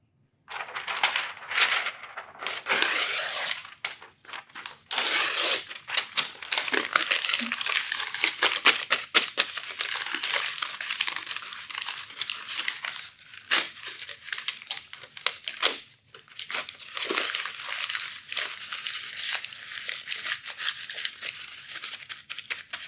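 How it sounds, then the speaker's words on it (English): A sheet of paper is crumpled and crinkled vigorously on purpose to make noise, producing loud, dense crackling bursts almost continuously with a few brief pauses, close to the microphone. "for 30 seconds, I'm going to make as much noise as I possibly can with the paper."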